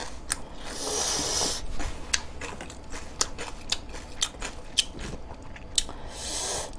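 Close chewing of mushroom beef bulgogi hot pot, with a steady run of soft wet bites and crunchy clicks spread irregularly across the clip, and no speech.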